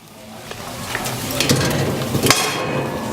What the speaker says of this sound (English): So I'm going to go ahead and throw my other grate on at this point.